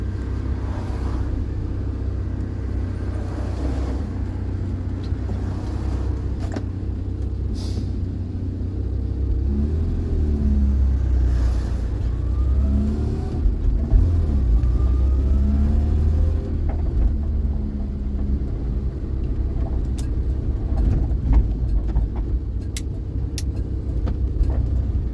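A 1975 Vauxhall Viva HC drives out on a test drive, its engine a low steady rumble that rises briefly mid-way, with a few faint clunks and no talk.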